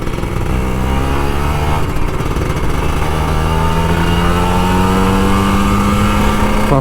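A Kawasaki Ninja RR 150 two-stroke motorcycle, an older model gone a year without service, rides on an open road, its engine droning loud and close as the pitch climbs steadily through the gears with rising revs.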